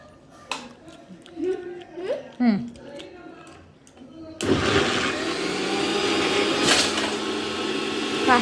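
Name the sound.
mixer blender blending grapes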